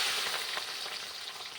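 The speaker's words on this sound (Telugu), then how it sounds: "ఇలా విడగొట్టుకున్న దాన్ని వేడైన ఆయిల్లో వేసి ఫ్రై చేసుకోవాలి" Chicken pieces for chicken biryani fry in hot oil, producing a steady, close crackling sizzle with faint stirring, without talk.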